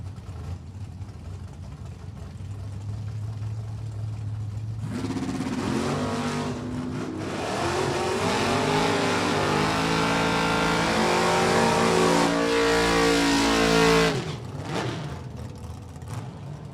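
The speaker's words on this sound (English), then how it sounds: "Got the fastback 66 Mustang. He will take on Annalise LaChapelle and the Cause and Trouble 84 Cutlass" A 1966 Mustang fastback and a 1984 Cutlass line up at a drag strip: a low idle, then engines rev hard and roar away with rising tones, holding loud for several seconds before cutting off and fading.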